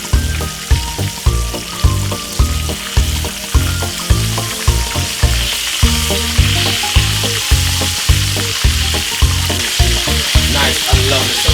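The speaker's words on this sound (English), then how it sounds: "Turn on my stove a little bit low and leave it for it to fry for roughly about 5 minutes on both sides." Beet frying on a stove over low heat gives a loud, close sizzle and crackle that runs continuously, with regular pulsing bursts on top and no voices.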